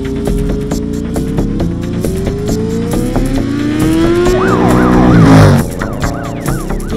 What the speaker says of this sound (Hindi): आवाज कैसी? Siren, freeway police.